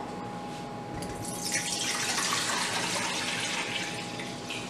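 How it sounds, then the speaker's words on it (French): Tap water pours steadily into a container, a continuous close splashing rush with a faint electrical hum underneath, while water is measured out for a strawberry-hull syrup recipe. "C'est de l'eau du robinet que j'ai laissé décanter depuis hier."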